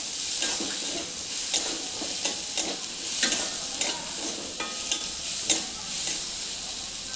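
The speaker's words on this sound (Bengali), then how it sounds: "এবার আমি কুচানো পেঁয়াজটা দিয়ে দিলাম আবারও পেঁয়াজটা নাড়াচাড়া করে নেব" Chopped onion fries in hot oil with browned garlic for a jackfruit curry, a bright steady sizzle broken by a series of regular spatula scrapes and taps as it is stirred.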